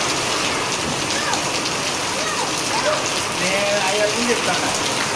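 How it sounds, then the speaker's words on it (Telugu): Heavy rain pours down in a dense, continuous hiss and patter that holds steady throughout, with faint voice-like sounds now and then beneath the downpour. "చూడండి వర్షం చూడండి ఎట్లా పడతా ఉందో ఫుల్ వర్షం పడతా ఉంది"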